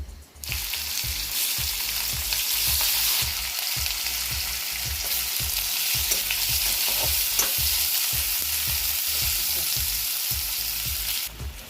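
Onions fry in hot oil with dried red chilli and five-spice for a boal fish curry, giving a loud, steady sizzle under regular scraping stirs of a spoon in the pan.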